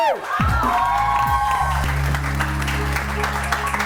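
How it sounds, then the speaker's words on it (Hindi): A studio audience on a New Year's morning talk show claps for Mavia, loud steady applause rising under fading musical tones and a low sustained hum. "बहुत सारी तालियां माविया के लिए"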